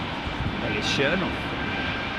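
An Airbus A380 at Heathrow, its broad, steady jet roar rising slightly mid-way, with a voice faintly present underneath.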